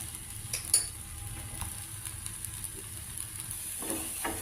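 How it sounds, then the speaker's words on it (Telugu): A millet dosa cooks on a pan with a little oil, giving a faint, soft sizzle broken by a few light clicks and scrapes of a spatula, close by and fairly quiet. "బాగా కాలింది దోశ రెండో వైపు కూడా కాల్చుకోవాలి"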